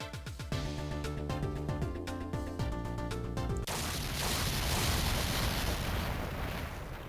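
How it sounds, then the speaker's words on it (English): A video game explosion in Ghost Trick: Phantom Detective begins with a loud, roaring crash that follows a tonal musical passage. The blast then stays as a sustained, dense rumble to the end, with no voices. "Explosion sounds."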